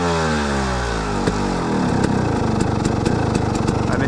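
A motorcycle engine idles steadily during carburetor idle adjustment, with the idle screw turned nearly all the way in; the close, loud putter rises slightly and turns more uneven and rhythmic partway through, with no voices.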